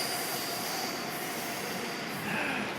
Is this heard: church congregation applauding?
no